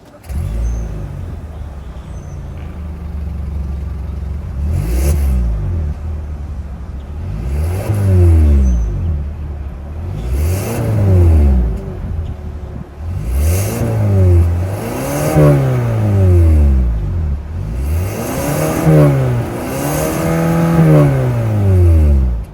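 A 2025 Kia K5's naturally aspirated 2.5-liter four-cylinder engine revs repeatedly, about seven rising-and-falling bursts growing louder, heard up close with no talking.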